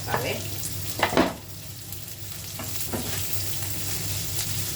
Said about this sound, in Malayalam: ഇതാ ഞാൻ ഉരുളക്കിഴങ്ങും സവാളയും കൂടി ഇടുവാണ് രണ്ടും കൂടെ ഒന്നിച്ച് അങ്ങോട്ട് നന്നായിട്ട് നമുക്ക് വഴറ്റി